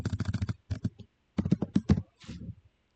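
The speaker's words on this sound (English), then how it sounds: "So I am typing characters here." Fingers tap on a computer keyboard in quick close clicks, grouped into several short bursts with brief pauses between them and no talking over them.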